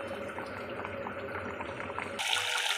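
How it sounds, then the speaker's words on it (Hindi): Water from boiled rice for biryani is drained off, pouring and splashing in a steady rush that turns brighter and louder near the end, with no talk. "अब हम इसका पानी अलग कर देंगे।"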